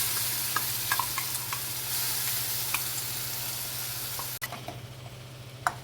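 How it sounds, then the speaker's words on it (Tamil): Masala and onions for mutton varuval sizzle and crackle steadily in a pan. A few soft stirring scrapes and one sharp clunk come near the end. "இந்த மசாலா இந்த வெங்காயத்தோடையும் ஊற்றி இது நல்லா வதக்கிடலாம்"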